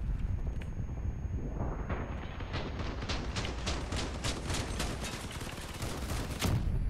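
Gunfire in the vehicle combat game Crossout hits the player's vehicle in a dense, sustained rattle of rapid shots over a loud rumbling battle background, with no talk.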